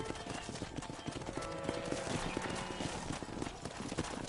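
Steady clip-clop of horse hooves at a quick, even pace over a dense, noisy outdoor backdrop, with a faint whinny, from the video game Red Dead Redemption.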